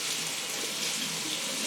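Tap water runs steadily into a sink while an orchid is rinsed during repotting from moss to bark, a close, continuous splashing hiss for the whole moment.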